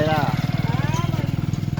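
A motorcycle engine idles and putters steadily on a banana farm, with a regular low pulsing beat, close by, before riding away, with voices talking over it.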